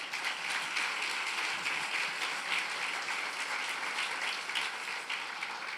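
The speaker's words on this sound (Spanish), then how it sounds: "Dele un aplauso al Señor." Sustained applause from a church congregation during a Spanish-language sermon, a dense steady wash of clapping at even loudness throughout with no voices over it.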